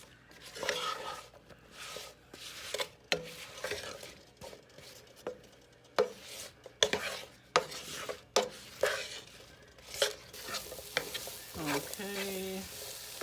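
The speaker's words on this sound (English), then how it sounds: "Gonna saute these some" Vegetables sautéing with seasoning and black pepper in a pan for meatloaf mushroom gravy, heard as soft sizzling with repeated scraping and stirring strokes against the pan at an irregular rhythm.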